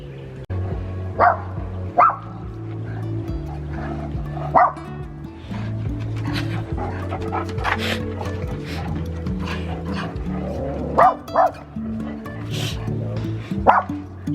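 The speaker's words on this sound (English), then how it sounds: "Where are we barking at? Something is afoot. Standing guard." A pet dog guarding indoors at home barks repeatedly: several sharp, close yips come in irregular bursts over a steady background murmur.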